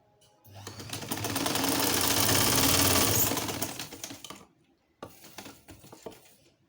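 A sewing machine stitches a piping strip for a patchwork pot holder, a rapid rattling whir rising to a steady run for about four seconds, then a pause and a shorter burst of clicking stitches.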